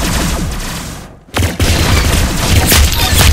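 Dense, loud bursts of gunfire and booms from the Roblox game Arsenal, almost continuous apart from a brief dip near the start, harsh and saturated.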